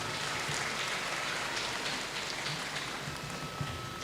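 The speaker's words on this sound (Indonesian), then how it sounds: "Tepuk tangan untuk kita semua." A seminar audience at a school parenting event applauds loudly and continuously, with dense overlapping claps that form a steady roar like heavy rain.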